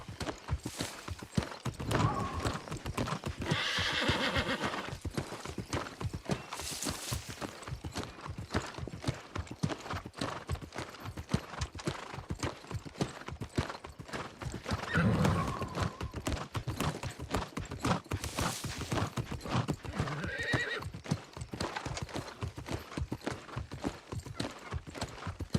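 Horse hooves clip-clop in a steady galloping rhythm with occasional neighs in the New World video game, fairly loud and continuous over a backdrop of game sounds.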